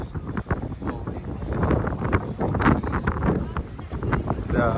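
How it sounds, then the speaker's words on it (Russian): Heavy wind buffets the microphone with constant rumbling gusts on the Hong Kong waterfront, while indistinct voices talk faintly underneath. "Да, конечно, ветер."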